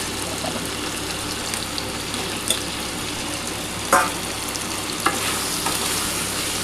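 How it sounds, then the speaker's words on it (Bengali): Potatoes fry in a pan for a prawn and potato curry, browning in oil with a steady, even sizzle and a couple of sharp clinks of a utensil against the pan. "আলুটা একটু লাল লাল করে ভাজতে হবে।"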